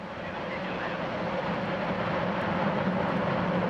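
Soyuz rocket engines igniting at launch, a steady, dense broadband roar that holds constant and slightly swells, heard from a distance with no other distinct sounds.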